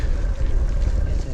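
Wind buffets the microphone in steady low rumbling gusts on a wet, boggy countryside trail ridden on an e-bike fitted with an Easi-fit conversion kit.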